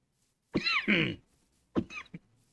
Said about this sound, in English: As I choke and cough and all of that